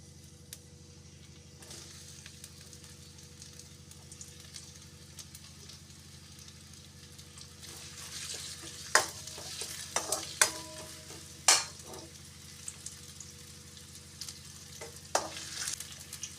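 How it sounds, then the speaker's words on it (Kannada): Onion frying in oil in a pan, a low steady sizzle with occasional sharper stirring scrapes and clinks growing more frequent in the second half, close by with no talk. "ಫಸ್ಟ್ ಬಾಣಲಿಗೆ ಎಣ್ಣೆ ಈಗ ಈರುಳ್ಳಿ ಫ್ರೈ ಮಾಡ್ಕೊಳ್ಳ"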